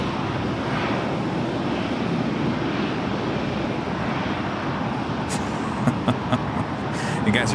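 An Emirates airliner at LAX gives a steady, broad jet roar that stays loud and constant. Someone talks faintly over it.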